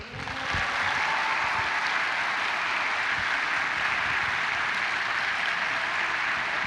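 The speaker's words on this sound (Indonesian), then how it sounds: "Jadi kita berikan aplaus yang paling meriah untuk Jonathan dan Patrick." A studio audience on an Indonesian talk show claps for two guests, Jonathan and Patrick. The applause is loud and sustained, rising quickly at the start and holding steady to the end.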